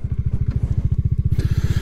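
Bajaj Dominar 400 motorcycle idling in neutral, a steady low rhythmic engine thump repeating rapidly and evenly, close and fairly loud, with a brief rise in hiss and noise near the end.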